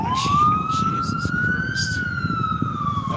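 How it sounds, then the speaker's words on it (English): An ambulance siren wails in traffic as it passes, a loud rising and falling tone held over steady road and engine rumble. "these ambulances now"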